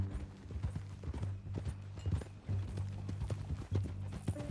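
Hooves of a horse on a ranch clip-clop in a steady, close rhythm, loud and alone, with faint mechanical creaks underneath.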